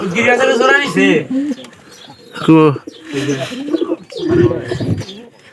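Pigeons coo in nesting boxes where newly paired hens have laid eggs, soft throaty calls recurring close by in several bursts while a person talks over them throughout.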